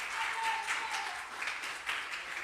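A church congregation claps for Jesus in a steady wash of applause, moderately loud and sustained throughout the short moment.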